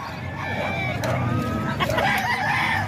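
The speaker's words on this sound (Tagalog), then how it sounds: "Ito, dalawang manok mga idol." Roosters and chickens at a Calumpit poultry market give steady clucks and short calls over busy background noise, moderately near, with no clear talk.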